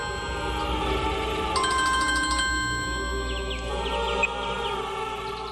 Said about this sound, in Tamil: அண்ணா ஃபோன் அடிக்குது.